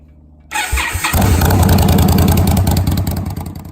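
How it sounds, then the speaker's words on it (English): A Scout engine fitted with a Rogue Pipeworks exhaust with 601 headers and a short muffler cranks and catches at about half a second, then settles into a loud, deep, steady idle rumble close by, with no talk. "This exhaust system by Rogue Pipeworks includes the 601 headers, and in this case we used the short muffler, the shock, which gives it a very deep but very loud sound."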